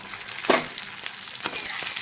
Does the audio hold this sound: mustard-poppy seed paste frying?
yes